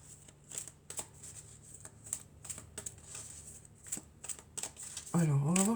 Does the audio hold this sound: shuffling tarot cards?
yes